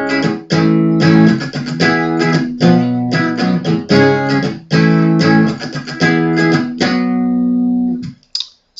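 Electric guitar through a clean amp channel plays the strummed chord intro of a song, rhythmic bright strums close up that ring out and stop near the end, no talking.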